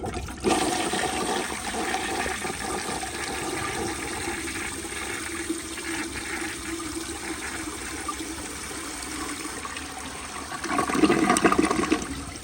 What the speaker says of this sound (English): But here is a flush.